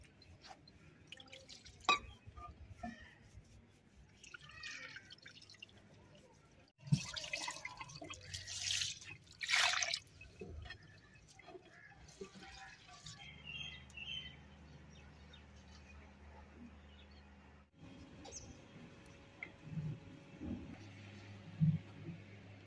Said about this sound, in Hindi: मैं कैन का जो पानी है ना इस्तेमाल कर रही हूँ धोने वास्ते चावल।